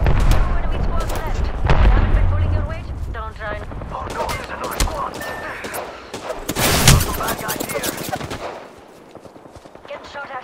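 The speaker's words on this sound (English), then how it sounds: "There's so many people shooting at me." Dense video game gunfire rattles in rapid automatic bursts and scattered single shots, a fusillade aimed at the player, with a person talking over parts of it and the shooting thinning out toward the end.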